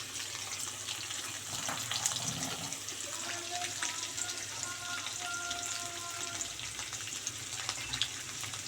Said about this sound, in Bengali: পনিরগুলো ভেজে নিয়ে আসছি আবার